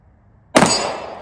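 A single sharp metallic gunshot clang from a video game, fired with streak visual ammo, bursts loudly out of near silence and then rings out in a bright, decaying tail.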